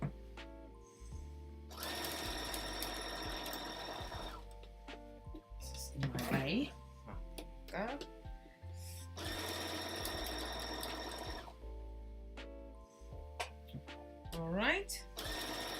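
A sewing machine stitches a fabric basket seam one centimeter from the edge, running loud in two long bursts with short whirring gaps, then trims its own thread; people talk briefly between the bursts.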